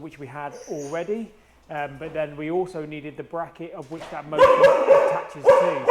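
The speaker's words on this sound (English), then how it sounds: "Excuse my dog." Someone talks steadily while his dog breaks in near the end with a few loud, close barks over his voice.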